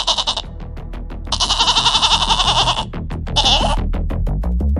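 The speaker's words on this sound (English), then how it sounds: "Fiddlesticks! The goats are startled now." Startled goats on a farm bleat loudly and close by in several long, wavering calls, one after another, with no talk over them.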